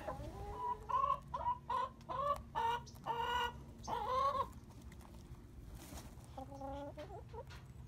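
Several chickens cluck and squawk in bursts close by for about four seconds, then a quieter run of clucks follows after a short lull.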